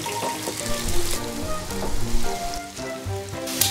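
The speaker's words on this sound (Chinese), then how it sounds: "锅里面放一点油，" Ginkgo nuts fry in a little oil in a home-kitchen pan, giving a steady, close crackling sizzle that runs unbroken through the whole stretch with no talking.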